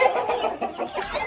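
Young chickens, including Vietnamese-breed chicks, cluck briefly at close range, a quick burst of soft chattering calls.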